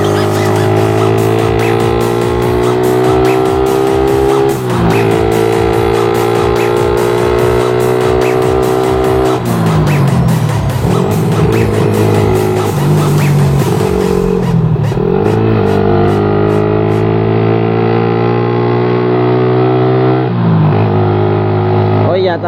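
A Suzuki Satria FU motorcycle with a 155 spec engine revs loudly and up close, rising and falling through repeated throttle blips with sharp pitch changes, dropping toward idle near the end.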